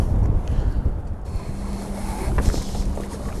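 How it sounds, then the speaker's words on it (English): Strong gusty wind at a harbour mole in Durban buffets the microphone in low rumbling bursts, loud and continuous, with faint water sounds underneath. "Unfortunately, it's very windy today"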